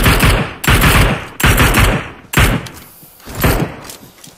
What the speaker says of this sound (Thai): เหมือนมันยิงบ้านอะ